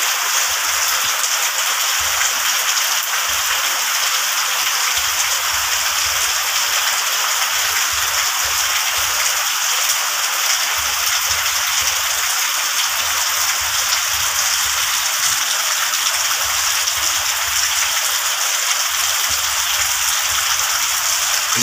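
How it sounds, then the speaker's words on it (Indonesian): Steady rain falls around a house, a continuous even hiss of drops on surfaces with a soft low rumble underneath, constant and close throughout with no voices. "Relaksasi hujan, air hujan."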